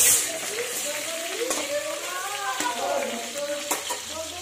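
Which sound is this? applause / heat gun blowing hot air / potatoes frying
potatoes frying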